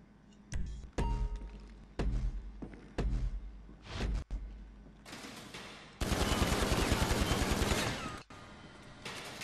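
Gunfire in Grand Theft Auto 5 aimed at a moving target: several short separate bursts of shots, then one long loud sustained burst of rapid fire, with mechanical clicks between volleys.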